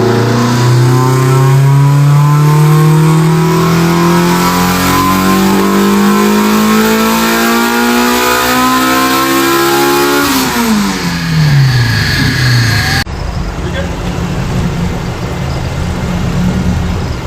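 A 2005 Toyota Corolla XRS with a new CNC intake manifold revs up hard on a dyno, its pitch climbing steadily for about ten seconds before dropping off as the throttle closes, loud and close with no talk.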